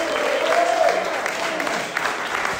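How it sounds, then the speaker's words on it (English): Crowd applause for eight dancers at a dance battle event, a short burst of dense clapping and cheering. "Give a round of applause to all eight dancers."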